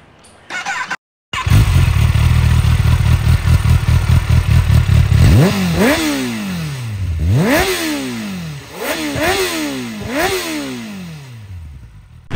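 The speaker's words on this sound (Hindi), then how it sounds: "मैं सुना देता हूँ आपको इसका स्टॉक एग्जॉस्ट का साउंड कैसा है" A Kawasaki ZX10R sport bike with its stock exhaust starts and idles loudly up close, then blips through a series of sharp throttle revs that rise and fall several times in quick succession.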